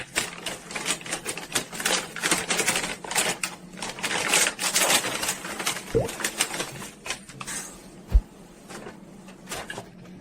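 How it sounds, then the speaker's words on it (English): Packaging for an MSI Gaming Trio RTX 5070 Ti graphics card is opened by hand, with a steady run of close scraping, tearing and tapping cardboard sounds and a sharp knock near the end. "Let's carefully open our packaging from here now, please."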